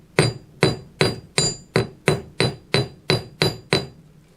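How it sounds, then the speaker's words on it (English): Hammer striking metal while forging a bent bracelet, ten sharp ringing blows in an even, steady rhythm, close and loud with brief decays between strikes. "a couple pops, hammer is angled"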